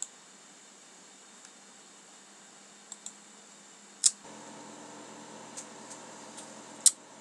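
A few sharp, isolated computer mouse clicks against a quiet hum, spaced irregularly with two louder ones standing out.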